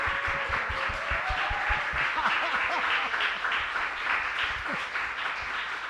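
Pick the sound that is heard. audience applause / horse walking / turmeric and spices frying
audience applause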